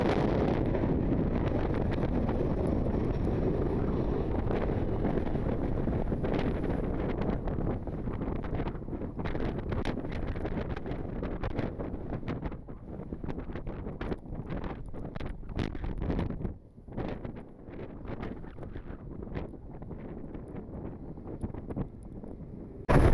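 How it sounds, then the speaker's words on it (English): Steady, heavy wind buffeting the microphone outdoors at Cleveland Hopkins International Airport, a constant low roar that dips briefly partway through before resuming. "it's very windy"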